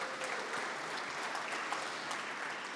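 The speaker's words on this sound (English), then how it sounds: "one more round of applause for all of the wives out there" A banquet audience at a golf awards dinner claps for the wives and spouses, a steady sustained round of applause heard at moderate distance from start to finish.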